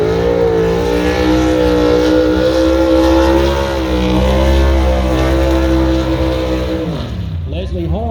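A-gas drag racing gasser cars do burnouts to heat their Hoosier tires, their engines roaring loud and steady at close range for several seconds before the pitch drops. An announcer talks over the engines near the end.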